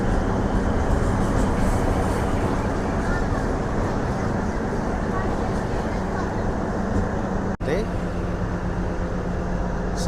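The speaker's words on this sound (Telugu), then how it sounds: "మన ట్రైన్ వచ్చేసి నంద్యాల నుంచి అయితే బయలుదేరిపోయింది." Nandyal–Tirupati DEMU passenger train running on single-line track out of Nandyal junction: a loud, continuous onboard roar and rattle that holds steady throughout, with one brief break near the end.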